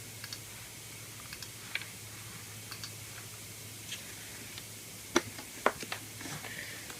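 A keyboard and mouse on a 2006 Intel iMac click quietly and sporadically, with sparse light taps and a couple of sharper clicks over a faint steady hum.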